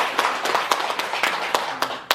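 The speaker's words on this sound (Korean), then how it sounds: "박수 한번 쳐야 될 거 아니야" A temple audience at a Buddhist Lotus Sutra lecture claps briefly, a quick scatter of about eight sharp hand claps over two seconds at moderate distance.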